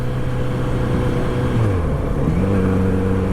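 Steady drone of a 2023 Kawasaki Z900RS motorcycle engine on a demo ride, pitch stepping up and down unevenly as the fuel-injected throttle responds jerkily, loud and close over wind noise.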